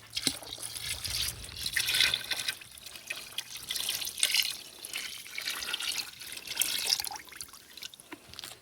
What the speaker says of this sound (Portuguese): A gente vai completar aqui com água